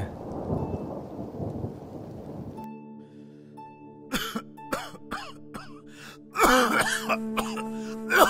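Thunder rumbles loudly at first and then gives way to scattered bumps and knocks indoors, with sharp rattling bursts near the end and no one speaking.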